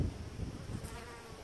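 Honeybees, worker bees and drones, buzz close by at a hive, a wavering insect drone rising and falling as they move around.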